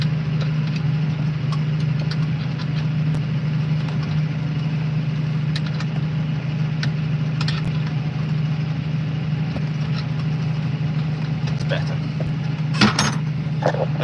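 A tractor engine idles steadily with a deep, constant drone and a few faint clicks and knocks over it.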